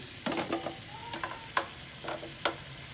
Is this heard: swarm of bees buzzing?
no